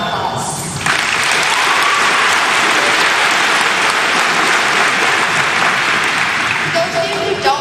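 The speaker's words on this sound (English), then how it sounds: "Please give yourselves a round of applause." A graduation audience breaks into loud, sustained applause, dense clapping that fills the hall for several seconds after a short spoken lead-in.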